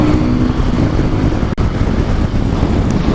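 A street rod motorcycle engine revs hard at about 6,500 RPM in third gear at 60 mph on a highway, giving a loud, steady high-rpm drone mixed with heavy wind rush and one brief dropout.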